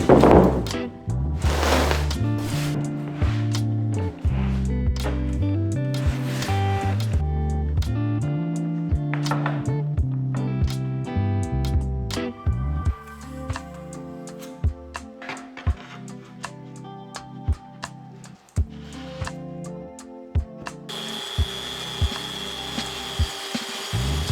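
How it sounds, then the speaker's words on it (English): A track saw rips through full sheets of plywood for cabinet parts, a steady loud whine with rough wood-cutting texture running through several long passes, then a brief drop in the motor sound near the end. "The easiest thing for me to break down full sheets of plywood is to just use the track saw."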